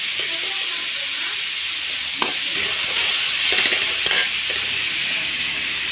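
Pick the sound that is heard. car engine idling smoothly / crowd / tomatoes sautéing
tomatoes sautéing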